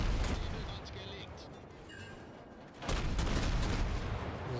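Naval guns in World of Warships fire in a heavy rumbling roar that continues under the sound of the game, swelling into a louder salvo partway through while someone talks.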